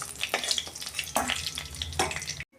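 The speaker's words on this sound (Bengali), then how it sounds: "মাছটা আমি একটু কড়া করেই ভেজেছি" Fish fried crisp in a pan, a constant close sizzle punctuated by several scraping turns of a utensil, cutting off abruptly at the end.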